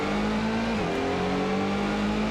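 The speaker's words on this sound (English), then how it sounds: "I can hear the turbo kit whirring in the background too" A car engine with its turbo kit drones and whirs steadily in the Gran Turismo racing game, a continuous loud hum that dips briefly in pitch around a gear change, then carries on without talk.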